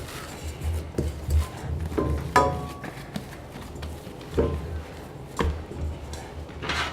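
Risen garlic knot dough being punched down and handled, giving soft muffled thumps and squishy presses at an irregular pace, close and fairly quiet with no talking.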